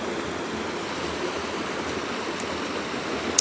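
River rapids and a waterfall rush in a steady, even roar of churning water heard from a distance, constant throughout with no other sounds.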